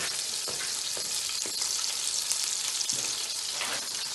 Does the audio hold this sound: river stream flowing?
no